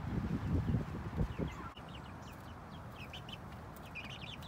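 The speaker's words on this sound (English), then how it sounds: "Let's meet the chickens." Young backyard chickens in a chicken tractor cluck and chirp softly, with a few low grunts at first, then quieter high peeps scattered over faint background noise.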